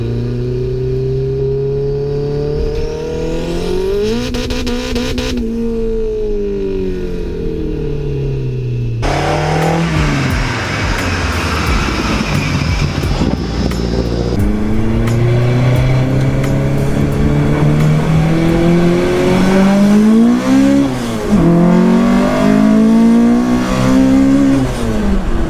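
A Honda Civic engine revs hard close by, climbing and falling through repeated throttle pulls and then accelerating away in rising sweeps, loud and raspy throughout.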